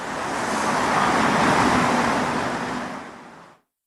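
Road traffic on the E5 highway in Istanbul makes a broad, steady roar that swells and then fades, ending abruptly in silence, with no voices.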